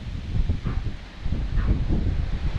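Gusty wind from an approaching typhoon, under overcast skies, buffets the microphone, producing low, uneven rumbling that rises and falls in waves.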